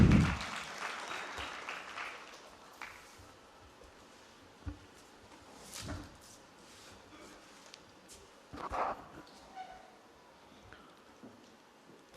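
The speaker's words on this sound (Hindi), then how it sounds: "ज़ोरदार तालियाँ।" Audience applause welcoming Rajasthan's UDH minister Jhabar Singh Kharra at a Viksit Rajasthan 2047 event: a fuller burst of clapping at first, thinning to scattered, faint claps and small crackles.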